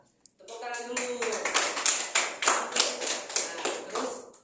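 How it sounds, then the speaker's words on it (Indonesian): A group of children claps their hands in a classroom, a brief voice first and then a dense, rhythmic burst of clapping that swells and pulses steadily to the end. "Oh iya, tepuk tangan dulu."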